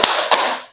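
A classroom of pupils claps on a teacher's cue, giving two quick sharp claps close together with a short ringing tail, loud and near, with no voices.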